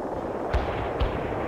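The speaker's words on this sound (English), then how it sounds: "Artillery here, Commandant." Distant artillery fire in the World in Conflict strategy video game, three dull booming thumps spaced about half a second apart over a steady rumbling battlefield background.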